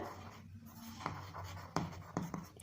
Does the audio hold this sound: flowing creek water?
no